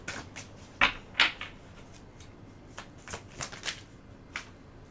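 Tarot cards being shuffled in short, crisp riffles and slaps, several quick bursts close by with brief pauses between, no talking.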